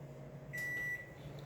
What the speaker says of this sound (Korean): 지금 보니까 전자레인지에서 소리가 나는데요.